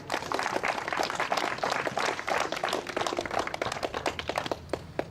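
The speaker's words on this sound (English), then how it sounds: "I would like to have one more round of applause for Bob" Sustained applause from an outdoor park crowd at a Boston Bruins community event, dense steady clapping that holds evenly throughout, fairly close with no talk over it.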